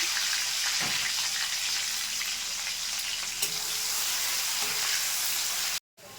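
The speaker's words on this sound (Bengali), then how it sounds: "পেঁয়াজটা ভাজা হয়ে গেছে" Chopped onions frying in hot oil with whole cinnamon, cloves and cardamom, a steady loud sizzle with occasional stirring scrapes and clicks, close up and without talk.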